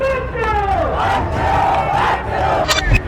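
A large crowd of state employees at a street rally in Jaipur shouts in unison, loud rhythmic chanting voices rising and falling close by.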